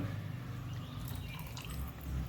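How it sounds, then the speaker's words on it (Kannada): Soft, quiet trickle of tamarind water being poured into a pot of carrot and tomato rasam, with faint dripping over a low background hum. "ಇನ್ನು ಸ್ವಲ್ಪ ಹುಳಿಯ ನೀರನ್ನು ಹಾಕ್ಕೊಳ್ತಿದ್ದೇನೆ ನೋಡಿ"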